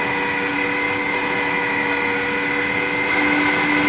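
A meat grinder pushes beef chuck through a small-holed plate with a loud, continuous motor whine and hum, close and steady throughout with no pauses.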